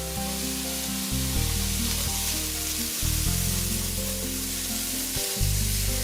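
Ginger, garlic, bay leaves, curry leaves, pimento peppers and hot pepper sizzle steadily in a hot pan for curried corn, a loud continuous frying hiss with low stovetop hum and no talking.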